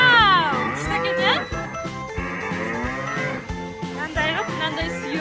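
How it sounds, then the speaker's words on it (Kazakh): A cow lows in drawn-out, rising and falling calls while a child milks it; a loud moo opens, another comes near the end, over steady rhythmic background sound. "Мынандай сиырды сауып жатыр."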